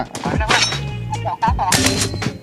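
Bursts of gunfire in a video game, sharp and loud, cut through with an excited voice shouting between the shots.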